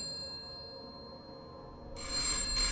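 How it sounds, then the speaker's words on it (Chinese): A telephone in the Roblox horror puzzle game Before Truth rings after a quiet, faint ambient stretch, its loud electronic trill bursting in near the end and continuing in close, sharp pulses. "电话响了，"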